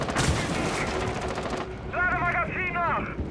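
Rapid bursts of gunfire in the tactical shooter Rainbow Six Siege, a dense volley in the first second and a half, followed by a voice speaking over game sounds.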